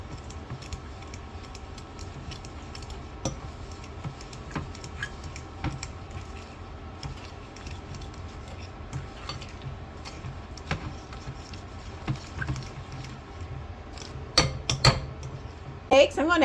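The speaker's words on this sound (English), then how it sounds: "Now I'm going to mix this until it becomes nice and fluffy." Softened butter and monk fruit sweetener are mixed for lavender honey crunch cookies, a quiet continuous stirring scrape with scattered light clinks of utensil against bowl, growing a little busier toward the end.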